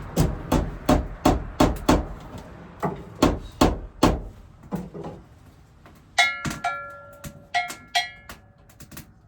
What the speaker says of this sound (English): I'm going to put a small, this little nail here, tap it